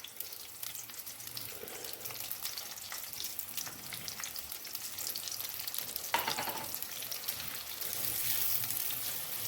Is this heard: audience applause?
no